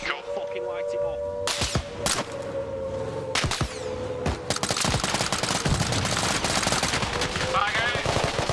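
Sustained gunfire in the video game Arma Reforger as a vehicle is targeted: sharp shots and bursts crack repeatedly over a steady engine-like rumble, close and loud, with heavier bursts building through the second half.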